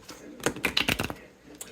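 Tarot cards are shuffled up close in a quick run of crisp riffling snaps and flutters that bunch in the middle and fade out.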